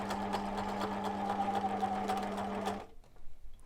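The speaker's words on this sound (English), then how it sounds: "then I'm going to sew all the way down to the bottom" A sewing machine runs steadily, stitching fabric for a face covering, then stops abruptly, leaving a few faint handling sounds.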